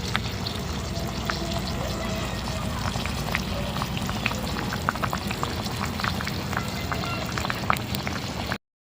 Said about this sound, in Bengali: দেখুন মাংসটা ভালোভাবে ফুটে গেছে